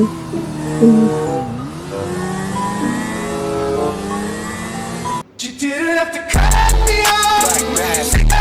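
Car driven in the video game GTA V, with a loud engine revving up and down, shifting pitch as it accelerates and brakes, then a sudden cut to a burst of harsher game sound near the end.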